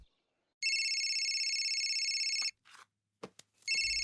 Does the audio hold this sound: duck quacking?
no